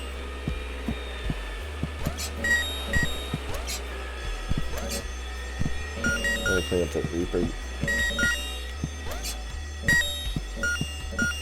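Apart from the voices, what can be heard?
fire alarm ringing in the video game Horace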